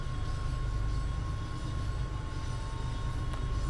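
MBTA commuter train in Train Sim World 5 rumbling along steadily, a constant low rolling roar with a faint tonal whine, with no talk over it.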